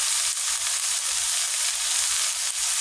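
Saag greens fry in hot oil in a pan, giving a steady bright hiss and crackle with soft bubbling pops throughout, close and continuous.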